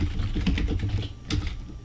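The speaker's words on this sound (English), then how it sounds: "Now in the search box, type Employee Meal Break" Keys clatter on a computer keyboard as a search phrase is typed into a legal research site's search box, a quick, steady run of close, light clicks with no talking.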